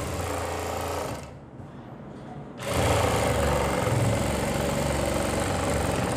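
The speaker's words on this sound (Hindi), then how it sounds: "यहाँ मैं सिलाई लगा रहा हूँ" A sewing machine runs steadily while stitching a seam on a kurti, a loud close mechanical whir that pauses briefly and then resumes at a fast, even pace.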